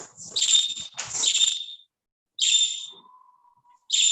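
Birds give clear, high whistled calls in short repeated bursts separated by quiet gaps, with one faint lower tone in between.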